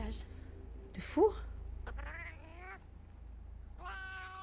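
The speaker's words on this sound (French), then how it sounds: "Moi techniquement c'est un chat ça miaule." A cat companion in the video game Monster Hunter Wilds meows several times in short, clear calls over a low game rumble, with voices speaking in between.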